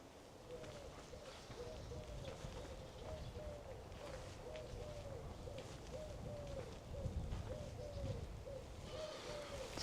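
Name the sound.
collared doves cooing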